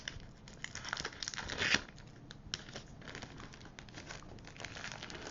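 Card packaging is folded down tightly by hand, giving steady papery crinkling and crackling with a brief louder crunch partway through, close and alone without talk.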